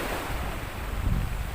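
Sea waves wash against a rocky beach breakwater of large boulders in Batangas City, a steady rushing surf with a slightly swelling surge and some wind noise, no voices.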